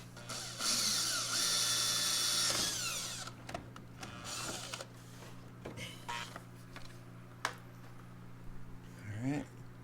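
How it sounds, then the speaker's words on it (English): A power drill bores into the front bumper of a 2019–2024 Camaro 1LE during a splitter install, with a loud whirring burst at the start, then quieter clicks and handling noises in a garage. "we're really just going to drill into the bumper"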